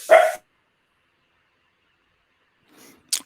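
A dog gives one sharp, loud bark, and after a pause a fainter yip is followed by a quick second bark. Silence surrounds the barks.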